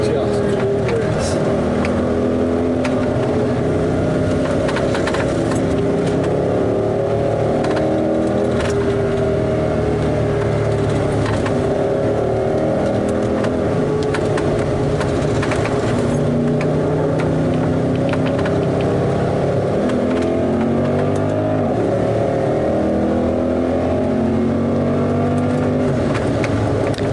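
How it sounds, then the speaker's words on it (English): A Mercedes SL63 AMG with its V8 engine and the roof down drives on an open road in Spain, its deep engine drone loud and constant throughout, mixed with rushing wind. "V8 noises"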